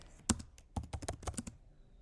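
Quick clusters of keystrokes clatter on a computer keyboard, close and crisp, in uneven bursts with brief pauses and no talking.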